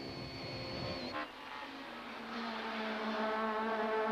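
Touring race cars, a BMW and a Castrol Toyota Camry, roar down the Gestetner Straight at Kyalami, a loud, steady engine drone with a rising tone as they accelerate, heard close as if from an onboard camera.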